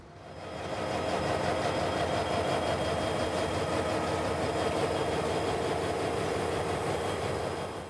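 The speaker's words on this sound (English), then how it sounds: "our train would be sitting here crewless, with the front of it idling by the Yeoman Yard office" A crewless freight train's locomotive idles by the Yeoman Yard office in Tampa, Florida, a steady low diesel rumble that fades in and holds evenly at moderate distance, with no voices.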